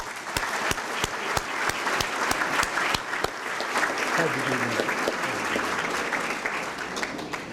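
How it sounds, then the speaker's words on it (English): A crowd applauds steadily at a high school sports hall of fame banquet, many hands clapping with sharp distinct claps standing out, a faint voice briefly under the clapping. "let's give him a round of applause"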